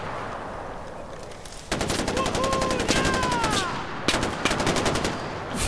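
Automatic weapon fire in the video game Far Cry 4, rapid rattling bursts of shots starting partway through, loud and close, with a brief pause and then another volley, over a background of game ambience and faint voice.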